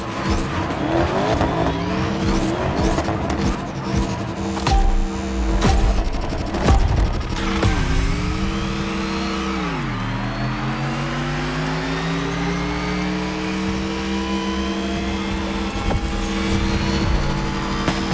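A Mercedes Vision EQ Silver Arrow race car drives hard, with a tonal motor whine that drops and then climbs again, tyres squealing and skidding, and loud, busy bursts of noise early on.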